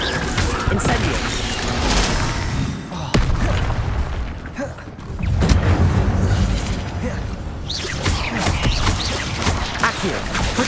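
Incendio fire spell blasts in the video game Hogwarts Legacy: loud, booming bursts with crackling, rushing texture repeat amid continuous magical combat noise and spoken spell names.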